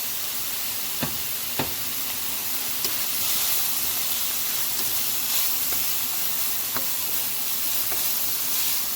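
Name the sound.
browned beef sizzling in oil in a pan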